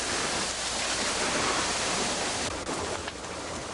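Two garden hoses spray water onto a lava flow beside a house, giving a steady, fairly loud hiss of rushing spray that holds for nearly four seconds and thins slightly near the end, with no voices.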